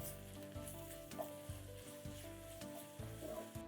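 Crushed ginger, garlic and green chilies fry with onions in a traditional pot, giving a steady close sizzle with soft stirring scrapes and small pops returning at a regular rhythm.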